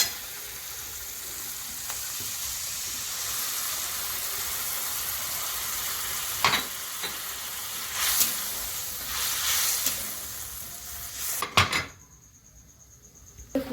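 Egg mustard curry is stirred in a frying pan: a steady, close sizzle runs throughout with occasional scraping and clinking of a utensil against the pan, and the frying cuts out abruptly near the end.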